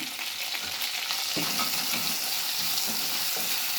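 Ginger garlic paste and turmeric sizzle and fry in a hot pan with a constant loud crackle, broken by a few stirring scrapes, close and alone without speech.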